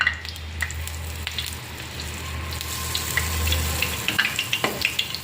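Raw-rice unniyappam batter poured into hot ghee sizzles in a steady wash of hiss, with a few sharp crackles and pops near the end; no talking.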